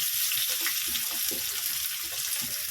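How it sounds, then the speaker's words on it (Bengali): Vegetables for chow mein sizzle steadily in a pan, a continuous bright frying hiss with small crackles and pops, close and moderately loud, with no talking. "তো চলো প্রথমে এগুলো একটু ভাজা করে নিই"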